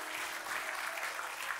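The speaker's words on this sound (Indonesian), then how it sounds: "Kasih tepuk tangan yang paling meriah buat Tuhan kita" Steady applause fills a church congregation during a worship service, a dense wash of many hands clapping at an even level with no voices rising above it.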